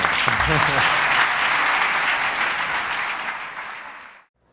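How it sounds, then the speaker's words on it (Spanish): Sustained applause from a workshop audience at a trading seminar, a dense, steady wash of clapping that holds strong, then tapers off and stops abruptly, with a voice speaking briefly at the start. "un aplauso para Fernando."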